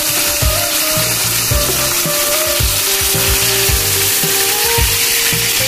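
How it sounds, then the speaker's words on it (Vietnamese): Two fish frying in a pan of hot oil: a loud, constant sizzle with a low rhythmic pulsing underneath. "Bạn nghe tiếng xèo không?"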